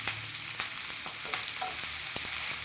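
Curry leaves and green chillies fry in hot oil in a pan for a Kannada-style palya: a dense, continuous sizzle, close and fairly loud, with sharp crackles and spoon stirs scattered through it and no talking.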